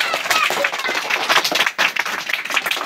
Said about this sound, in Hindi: बजाइएगा ज़रा तालियां अगर आपके हाथों में जान है